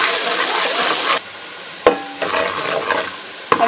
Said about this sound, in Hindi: ये 1 बड़ी प्याज हमने बारीक रफ चॉप करी है और वो हम इसमें डाल देंगे और इसे हम हल्का गोल्डन ब्राउन करेंगे